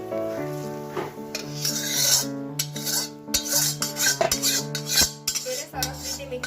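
Roasted coconut and edible gum being stirred together for gundar pak, with a spoon scraping and clinking against the metal vessel in close, irregular strokes over soft background music.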